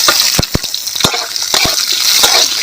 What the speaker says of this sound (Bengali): এর উপরে দিয়ে দিচ্ছি কুচিয়ে রাখা পেঁয়াজ আর কাঁচা লঙ্কা।